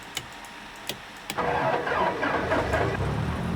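An aircraft engine starts in the X-Plane 11 flight simulator with the XPRealistic Pro add-on: a few sharp clicks, then the engine catches and settles into a steady, loud running rumble.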